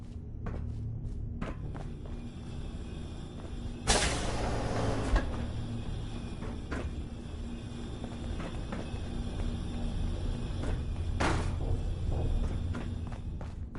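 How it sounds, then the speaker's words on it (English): A malfunctioning door in Fallout 4 grinds and slides in a loud burst lasting about a second, then clacks again briefly later, over a low steady hum with scattered knocks and thuds and no talk. "This door's on the fritz."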